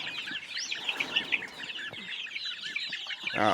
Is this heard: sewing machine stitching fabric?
no